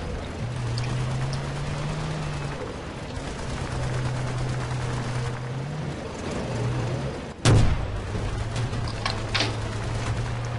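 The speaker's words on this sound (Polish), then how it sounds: "Hm, ale bombardowanie." One heavy boom cracks out amid steady battlefield noise and a droning tank engine hum, like distant artillery bombardment in Battlefield: Bad Company 2.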